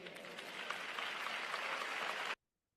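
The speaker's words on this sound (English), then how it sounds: "You see, that gets applause." A church funeral audience bursts into sustained applause, a dense, even wash of many hands clapping that runs for over two seconds and then cuts off sharply.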